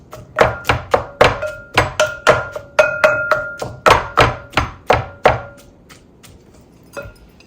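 Chamomile and apricot energy bite mixture is mashed with a spoon in a bowl, making a steady run of about twenty sharp, close, thudding knocks that slow toward the end, with no talking.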